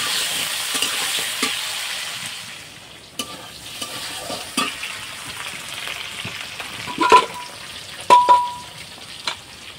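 Potatoes frying in a pan give a steady hiss of sizzling oil, louder at first and then easing, with intermittent spatula scrapes and knocks near the end.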